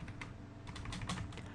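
Steady typing on a computer keyboard, a continuous patter of key presses at a quiet, close level with no talking over it.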